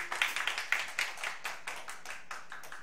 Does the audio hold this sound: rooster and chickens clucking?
no